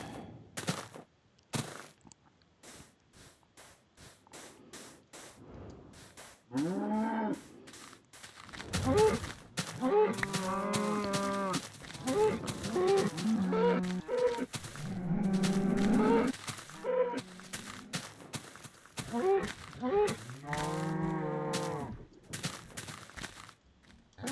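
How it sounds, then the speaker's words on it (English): Several cows in a video game moo loudly in repeated long calls, some overlapping, over a quieter game soundscape; no one speaks. "there are a lot of cows around here"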